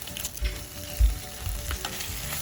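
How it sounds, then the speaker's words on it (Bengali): Ginger-garlic paste and spices with bay leaf frying in a pan for broken rice, a steady close sizzle with a few louder stirring scrapes, no voices. "তেজপাতা দিয়ে আবার একটু নাড়াচাড়া করে মশলাটাকে ভেজে নিচ্ছি।"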